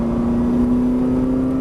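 A Ferrari powering out of a corner on a race track, its engine holding a steady, loud droning note with a rich buzz that stays near and constant throughout.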